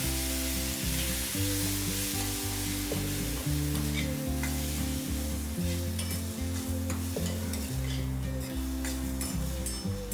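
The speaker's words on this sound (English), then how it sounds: "ginger garlic, curry leaves and onions. I'll saute this till the onions turn translucent" Ginger, garlic, curry leaves and onions sautéing in a pan, a steady close sizzle with frequent scraping stirs and clinks of a utensil throughout, no voices.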